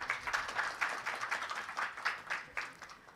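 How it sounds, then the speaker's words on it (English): Audience applause for a panel at a forum on AI openness, a quiet, steady patter of many hands clapping in irregular bursts for about three seconds, somewhat distant, with no voices. "Please join me in applauding our fantastic lineup here today."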